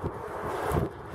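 Strong wind buffets an outdoor allotment, a loud, rough rumble with gusts rising and easing over a second, and no voices.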